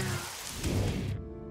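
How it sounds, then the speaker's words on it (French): Rain falls in an animated memory scene: a dense, close patter of rain that swells briefly near the middle and then cuts off abruptly into a low tonal background. "soudain il s'est mis à pleuvoir"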